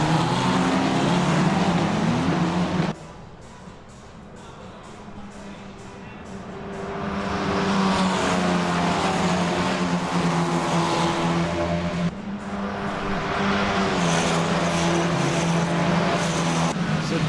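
Engines of F4 race cars in a racing game at Laguna Seca roar loudly and continuously, dip briefly, then climb again in pitch as the pack accelerates away from the start.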